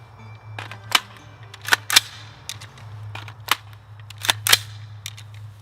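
Sharp shots from a Saint Victor 5.56 rifle being sighted in ring out one at a time in an uneven series of about ten, each a crisp crack over a low steady hum.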